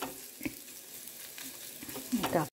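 Beetroot curry frying and being stirred in a pan gives a soft continuous sizzle, broken by a few scraping clicks of the stirring utensil, the loudest near the end.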